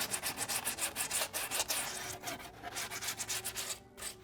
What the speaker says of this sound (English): So what I like to do is go through and just sand them off